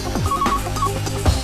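A telephone rings with warbling tones over a low steady hum, two short ring bursts close together.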